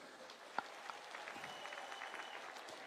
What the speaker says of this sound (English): Can you kindly, and the band, can we give them an applause?